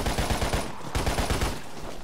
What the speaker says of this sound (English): Oh, I shot you.